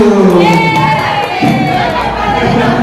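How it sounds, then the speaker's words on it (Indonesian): A room full of children at a school session cheers and shouts together loudly, their excited voices overlapping continuously. "Tepuk tangan buat Bu Inu."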